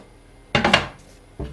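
A coffee machine lid snaps shut with a short clatter of plastic, followed a moment later by a second, softer knock.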